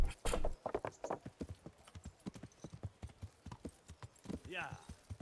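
Horse hooves clip-clop in a steady, rapid rhythm while riding in the medieval role-playing game Kingdom Come: Deliverance, with a brief whinny near the end and someone talking intermittently over it.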